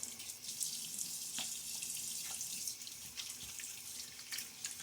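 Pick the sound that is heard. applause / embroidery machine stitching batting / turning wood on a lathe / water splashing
water splashing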